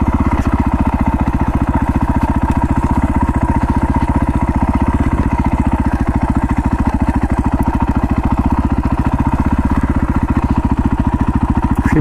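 A KTM or Husqvarna 500 four-stroke dirt bike with reprogrammed ECU rides in second gear in a side yard, its engine a steady, loud, close thumping drone that holds evenly throughout with no talk.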